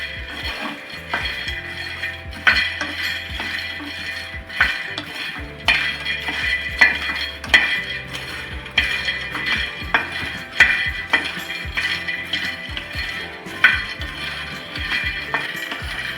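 Fox nuts (makhana) roast in a pan toward crisp golden, rattling and clattering continuously as a spatula stirs them, with metallic scrapes and light clicks in an uneven, busy rhythm, close up and without talking.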